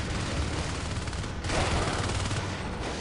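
Shotguns fired by three Marines in the sci-fi shooter Natural Selection 2, a dense, continuous barrage of overlapping blasts and impacts lasting about three seconds with no pauses.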